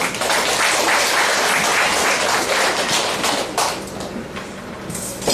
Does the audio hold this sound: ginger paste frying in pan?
no